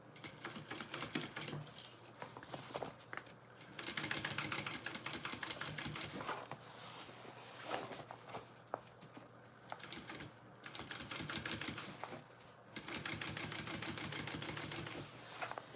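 Sewing machine top stitching along a garment lining, running in bursts of fast, even needle clatter separated by short pauses, close and moderately quiet.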